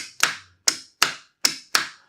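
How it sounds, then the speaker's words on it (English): An electrical contactor switches on and off as its supply wire is connected and removed, giving five sharp, loud, isolated knocks at roughly half-second intervals, each decaying quickly, with no voices. "On removing wire, contactor will turn off. You can hear this knock sound."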